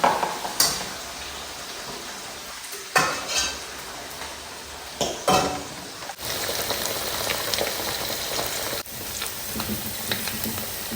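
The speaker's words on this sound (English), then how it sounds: "We are frying only the meat, guys" Meat sizzles steadily in hot coconut oil in a pan, with occasional scraping and clinking as it is stirred with a utensil.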